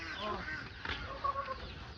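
Chickens cluck softly and faintly nearby in a brief, quiet moment, with a few scattered murmurs in the background.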